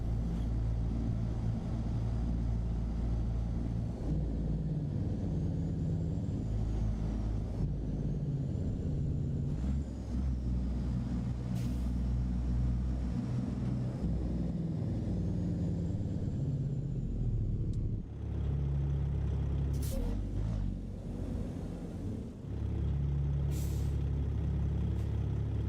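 Engine of a heavy truck in American Truck Simulator: a continuous low diesel rumble with shifting pitch, broken by several sharp hissing bursts of air brakes, with no talk over it.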